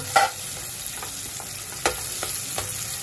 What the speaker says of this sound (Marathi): मस्त पैकी एकदम लाल करून ठेवायचा आहे कांदा आपल्याला तेलात